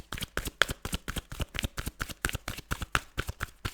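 A deck of tarot cards is shuffled up close, producing a quick, even run of crisp papery slaps and flutters at a steady rhythm, with no talking.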